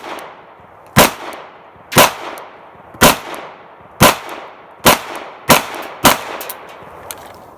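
Seven sharp, loud pistol shots from a handgun with a red dot sight ring out at an outdoor target range, spaced roughly one second apart, each followed by a brief echoing decay, with no talking.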